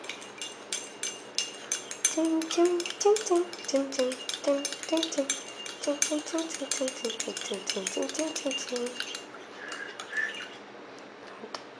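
A spoon stirs plenty of sugar into hot coffee in a cup, ringing out a quick, steady series of bright clinks for several seconds, fairly close and clear, before it slows and fades out.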